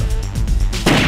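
Gunfire from the zombie arcade shooter The House of the Dead 2 comes as a few loud, close shots in quick succession, with a heavier blast near the end and no talking.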